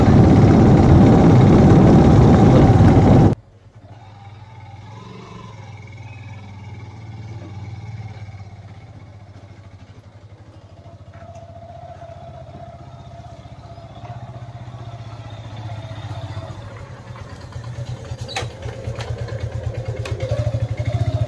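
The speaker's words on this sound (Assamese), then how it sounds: "মই ঠেলাখন টানি মটৰচাইকেলখন চলাই গৈ আছোঁ" A motorcycle engine runs steadily while towing a loaded handcart carrying cement bags and groceries on a road, a continuous low rumble with rising clatter and vibration, after a brief loud burst at the start.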